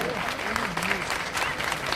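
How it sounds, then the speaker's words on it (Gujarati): A crowd claps steadily and loudly at a live folk music program in the Hatkeshwar Mahadev temple in Vadnagar, with a voice speaking over the clapping. "જબરદસ્ત તાળીઓનો ગડગડાટ આપણે વરસાવીશું"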